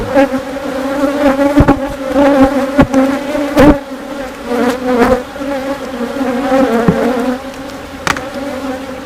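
Honey bees buzzing densely around a beehive after a swarm, a steady close droning hum with individual bees zipping past the listener.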